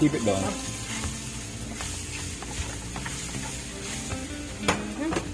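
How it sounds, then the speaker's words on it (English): Garlic frying in masala for a spicy crab and shrimp seafood curry, a steady close sizzle with occasional stirring clatters and a brief sharp knock near the end. "And I'm adding in some garlic."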